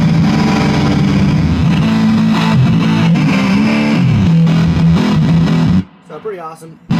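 A guitar through a fuzz pedal with distortion and compression gives a heavily distorted, buzzing tone that wavers and slides in pitch, loud and saturated, before cutting off abruptly into a brief, quieter self-oscillating squeal.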